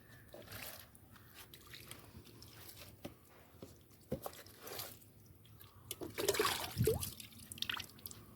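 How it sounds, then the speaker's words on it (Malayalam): Water poured from a small container onto young brinjal seedlings that have taken root in pots, making soft intermittent drips and trickles with a wetter splashing burst near the end, close by and fairly quiet against faint outdoor background. "ഇതിൽ ചെറുതായിട്ട് ഇച്ചിരി ഇവിടെ നനയാൻ വേണ്ടിയിട്ട് മാത്രം ഇങ്ങനെ കുറച്ച് ഒഴിച്ചു കൊടുക്കാം"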